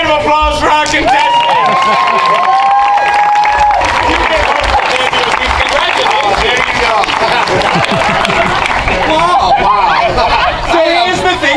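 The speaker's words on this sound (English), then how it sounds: "Let's give a big round of applause for our contestants." A live audience applauds contestants at an event, a loud, steady wash of clapping and cheering with crowd chatter mixed in, and a whistle-like tone rising briefly near the start.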